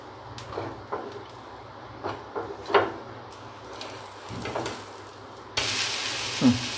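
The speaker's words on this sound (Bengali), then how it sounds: "এইভাবে এটাকে কিছুক্ষণ ভাজা ভাজা করে নিতে হবে এই পিঠটা।" An uttapam fries in a hot pan after oil is brushed over its top. It starts with scattered light clicks and taps, then a steady, hissing sizzle swells up near the end.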